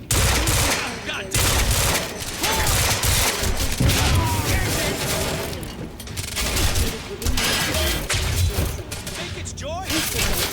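Sustained gunfire in the shooter Quantum Break: rapid automatic bursts and scattered shots crackle continuously with a few heavy thuds, loud and close, while voices speak intermittently beneath the shooting.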